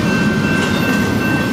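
A CP Rail freight train rolls past close and loud, a steady dense rumble with a faint metallic ring above it and no voices.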